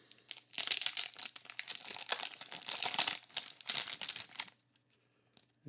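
A 1991 Bowman baseball card pack being torn open, with close, steady crinkling and tearing of the wrapper for several seconds before it goes quiet.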